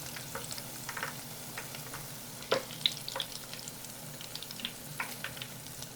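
Fish fillet frying in hot oil, a steady close crackling sizzle dotted with sharp pops and spits as it is turned in the pan.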